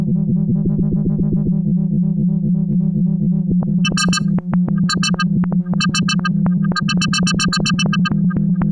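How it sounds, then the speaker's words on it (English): Schlappi Engineering synthesizer module producing a distortion effect, a loud sustained buzzing drone pulsing with a warbling rhythm, then joined by bursts of harsh, gritty upper tones switching on and off. "definitely get to something that sounds like distortion"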